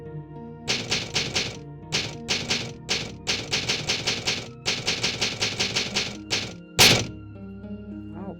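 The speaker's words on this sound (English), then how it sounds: "Did the typewriter break? Imagine the typewriters breaking in these games." Typewriter save sound from the Resident Evil Director's Cut video game: a rapid run of sharp mechanical key clacks in bursts with short pauses, ending in one loud, harsh bang, heard alone with no talk.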